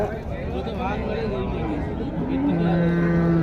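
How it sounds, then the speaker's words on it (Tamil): Kangeyam cattle mooing loudly at close range amid the chatter and hubbub of a busy crowd at the Tiruppur cattle market, with a long low moo near the end. "காங்கேய மாடு தான் இதுதான் நாட்டு மாடு"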